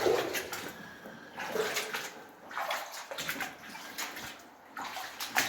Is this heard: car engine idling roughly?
no